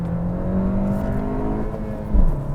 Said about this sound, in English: Heel toe downshifting